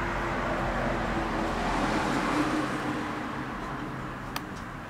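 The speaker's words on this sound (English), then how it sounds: "it's a bit noisy with the cars going past." Cars pass on a suburban street out the front of a house, a steady faint wash of traffic noise with no talking and one brief tick near the end.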